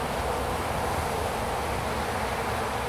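A dense, even drone of honey bees fills the air over frames pulled from a hive during a spring inspection, continuous and close with no talk.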